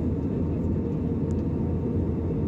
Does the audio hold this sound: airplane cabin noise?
yes